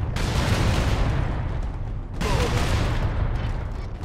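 Gunfire from Warhammer 40K: Space Marine roars in a dense, continuous barrage of loud shots and booms, briefly dipping before another heavy volley resumes.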